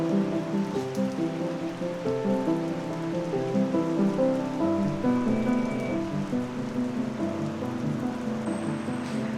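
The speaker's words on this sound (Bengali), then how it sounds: "হঠাৎ করে শুরু হলো বৃষ্টি।" Sudden rain, a steady patter and hiss of drops falling on surfaces, continuous and fairly close, with no talking.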